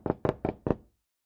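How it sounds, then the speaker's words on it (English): Four sharp knocks on a door in quick succession, close and clear, followed by silence. "It's knocking."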